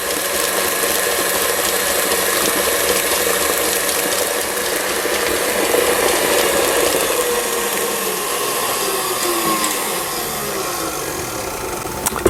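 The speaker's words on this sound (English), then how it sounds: "now I'm going to blend this until it's creamy" An electric mixer whirs steadily at close range, beating cream cheese, sugar and heavy cream into a creamy filling for a congealed strawberry cake, its mechanical hum continuous and unbroken with no talking.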